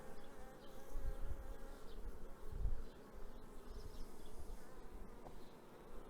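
A dense, steady hum of many Carniolan honeybees buzzing close by on a hive frame, low and continuous, with no voices over it.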